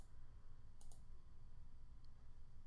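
Computer mouse clicks: a quick pair of faint, close clicks near the start, followed by one lighter click later, over a quiet room hum.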